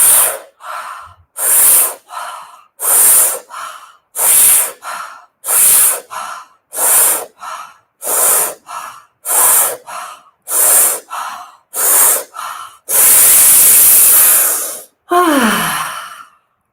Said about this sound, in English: So breathe in quite actively.